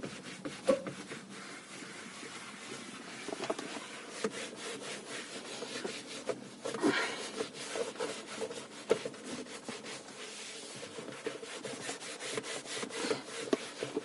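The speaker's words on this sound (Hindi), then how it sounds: "तो अब मैं इसमें कपड़ा मारता हूँ" Cloth wiping polish off a car steering wheel, a steady close rubbing and scrubbing in repeated circular strokes with short pauses, moderately loud and alone without talk.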